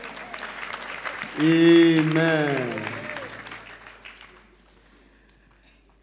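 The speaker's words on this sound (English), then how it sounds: "Clap for Master Jesus." A church congregation claps as a voice rings out over it with a drawn-out exclamation, and the clapping fades off toward near silence.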